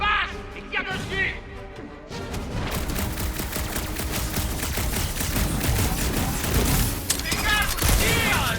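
Sustained rapid gunfire and crashing impacts fill a battle in Marvel's Guardians of the Galaxy, loud and dense for several seconds, with game voices shouting in the mix.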